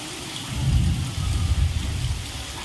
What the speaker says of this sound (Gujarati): અને વીજળીને કડાકાને ભડાકાને બધું ચાલુ છે, અને વરસાદ ખૂબ બહુ સારો પડે છે અત્યારે.